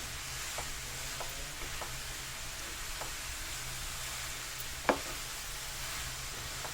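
Steady sizzling of carrots frying in a pan over an open gas flame for carrot halwa, with occasional soft scrapes of stirring and one sharper clink near the end.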